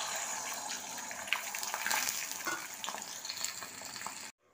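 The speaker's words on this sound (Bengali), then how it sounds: "ডিমটাকে উল্টো পিট করে আবার ভালো করে ভেজে নিচ্ছি।" An egg frying in hot oil in a pan sizzles and crackles steadily, fairly loud and close, with small bursts of spattering, then cuts off abruptly near the end.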